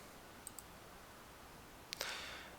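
Faint computer mouse clicks sound in a quiet room while trim is selected in an online video editor, two soft clicks followed by a sharper double click.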